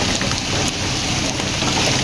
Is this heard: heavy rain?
yes